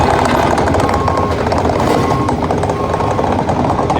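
Construction work in a trench on a busy Chicago street at State and Lake, where conduit was laid and filled back in, gives a loud, continuous rumbling clatter of machinery mixed with traffic noise, close and unbroken throughout.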